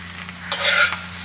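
Potatoes for a fasting dish frying and starting to scorch in a pan, a steady close sizzle with a brief stirring scrape that swells and fades in the middle, no talking.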